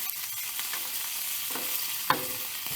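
Italian sausages sizzle on a Blackstone griddle outdoors, a steady close hiss of frying fat with a few small pops and a brief clatter near the end.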